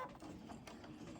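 A sewing machine runs steadily as its needle is forced through thick fabric, giving a quiet, continuous mechanical whir with a light rapid clatter close by.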